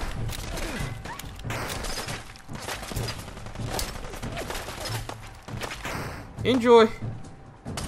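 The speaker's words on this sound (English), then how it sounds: "Who else is shooting at me?" Gunfire in the modded Fallout 4 video game, a string of sharp, crackling shots and impacts spread over several seconds, with a louder burst near the end, heard under constant talking.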